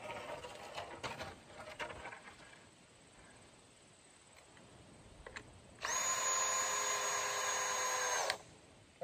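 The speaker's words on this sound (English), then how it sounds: "I need the drill, and it's already got a screw in it." Power drill driving a screw into a wooden backyard swing set, a loud steady whirring burst of about two and a half seconds following some scattered clicks and handling knocks.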